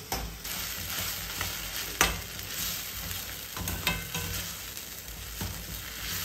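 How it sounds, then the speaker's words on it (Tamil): Masala sautéing in a pan for a spicy Tamil crab curry, a continuous close sizzle broken by spoon stirs and scrapes, no voices. "நல்லா கொஞ்சம் பச்சை வாசம் போகிற வரைக்கும் வதக்குங்க"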